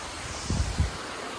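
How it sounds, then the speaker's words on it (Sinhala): Aberdeen Falls waterfall heard from a rock at its base, a steady broadband roar of falling water with two brief low thumps, close and continuous. "මේන් තියෙන ඇල්ල"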